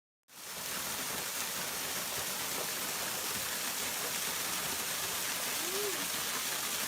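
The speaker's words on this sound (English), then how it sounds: "There's a particular waterfall on the Aspen Grove, which is the South Trail coming up to Timp" Waterfall on the Aspen Grove trail to Timpanogos, a loud continuous roaring rush of falling water that starts abruptly and holds steady throughout, close by.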